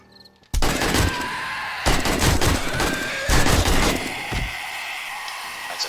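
Gunfire in the zombie survival video game 7 Days to Die: several loud bursts of rapid shots in quick succession, fired at a spider zombie at night, close and sharp, with ringing tails between volleys.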